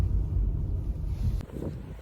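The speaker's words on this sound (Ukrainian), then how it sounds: "Настільки сильний почався вітер і сніг" Heavy wind in a snowstorm buffets a microphone with a low, roaring rumble that gusts and dips, then eases slightly near the end.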